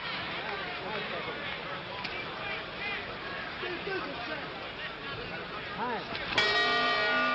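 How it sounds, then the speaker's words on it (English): A boxing ring bell clangs to end round two of the 1964 Cassius Clay vs. Sonny Liston heavyweight fight, a single sharp ringing strike over a constant roaring crowd and a commentator's voice. "Two rounds gone, and that time they hear the bell."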